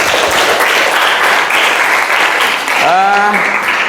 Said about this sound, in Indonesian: Ya, silakan kasih tepuk tangan dulu.